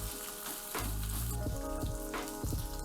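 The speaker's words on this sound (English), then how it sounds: "I'm going to add half a medium-sized onion sliced. Let it cook in for around 30 seconds or so." Half a medium onion, sliced, sizzles in hot olive oil in a pan: a steady, close frying hiss, broken by occasional stirring scrapes.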